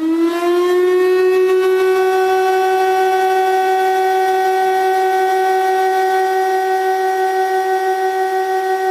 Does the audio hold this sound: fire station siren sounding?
yes